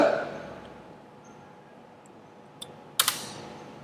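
Keystrokes on a computer keyboard while coding HTML in Visual Studio Code. A quiet stretch gives way to a few sharp, close clicks near the end.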